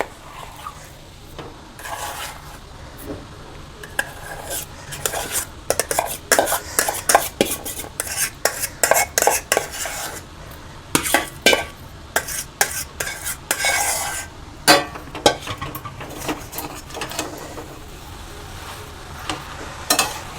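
A spoon stirs mashed potato filling in a pan, with steady scraping and clinking against the metal and a faint sizzle beneath, repeated irregular strokes close up and no talking.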